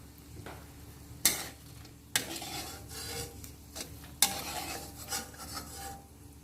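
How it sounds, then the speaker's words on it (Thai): Chilies frying in hot oil until crisp for a Thai stir-fried prawn with tamarind sauce, a continuous close sizzle broken by several sharp metallic scrapes and clanks of a utensil against the pan. "ที่เจียวหอมแล้วก็เอาพริกลงไป เจียวต่อนะครับ เคี่ยวจนมันกรอบนะครับ"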